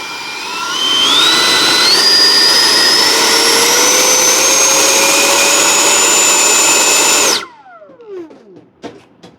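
The electric ducted fan motor of a Freewing 80mm F-22 Raptor RC jet runs loud and close, a rising high-pitched whine that spools up, holds for several seconds, then cuts off and winds down.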